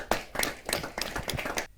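Close, busy clapping from an audience at a Hindi kavi sammelan, a short burst of many hands in quick uneven strokes that cuts off abruptly.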